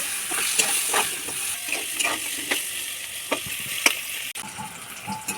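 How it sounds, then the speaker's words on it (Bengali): Eggplant pieces with a little salt and turmeric fry in hot oil in a kadai, giving a steady close sizzle broken by scattered stirring clicks and scrapes. "বেগুনগুলোকে ভালো করে ভেজে নেব"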